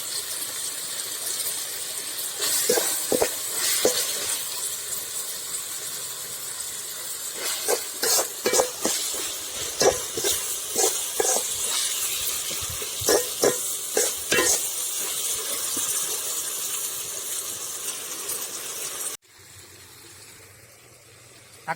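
Onions and tomatoes sauté in a pan for chicken gravy, a steady loud sizzle with frequent clattering stirs through most of the clip before it drops to a quieter hiss at the end.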